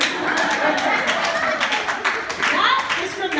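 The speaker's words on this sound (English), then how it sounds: "Slow clap." Scattered, slow hand claps ring out over a lively background murmur, irregular and moderately close rather than a steady applause.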